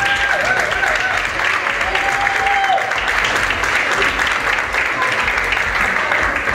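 Sustained applause at a quinceañera welcoming the stepparents, a roomful of hands clapping loudly and continuously, with crowd murmur underneath.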